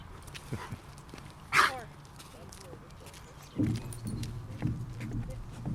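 A strong-looking dog on a city street gives a short bark and whimpering yips near the microphone, with people talking around it.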